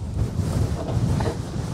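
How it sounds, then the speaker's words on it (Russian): Gusty wind of up to about 12 m/s pounds the microphone with a dense low rumble at a glider's off-field landing site, surging in uneven bursts over a brief stretch. "А ветерочек сейчас метров до 12 порывы дует"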